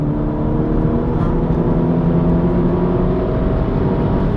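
A 280bhp SEAT Leon Cupra driven hard on a race track, its engine holding a loud, steady drone with layered harmonics throughout, no voices.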